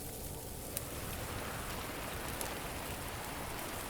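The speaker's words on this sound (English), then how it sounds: "It started to rain." Steady rain falling during an outbreak roleplay scene, a dense even hiss of drops on surfaces that stays constant and fairly soft throughout, with no voices.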